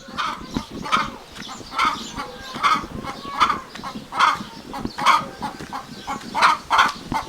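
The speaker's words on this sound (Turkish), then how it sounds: "Ama tavuk burada bağırıyor." Chickens clucking in a village yard, a rhythmic series of loud, close squawking clucks repeating roughly every second, with no talk.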